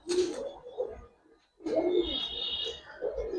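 Female Giribaz pigeon, a reddish adult hen, giving short cooing calls close by, two brief bursts separated by a pause, with faint background noise and no talking.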